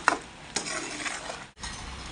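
Tomato thokku sautés in a pan, a soft continuous sizzle under repeated stirring scrapes of a spoon against the metal, with a brief pause before the stirring resumes.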